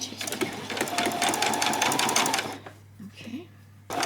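Sewing machine running fast as it stitches back stitches on a bodice, a dense steady mechanical whir that lasts about two and a half seconds and then stops, with a voice speaking briefly afterward.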